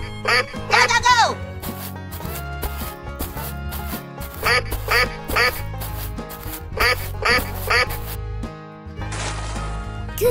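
A cartoon duck quacks in quick repeated bursts over bouncy background music, with a voice speaking between the calls in a children's animal animation.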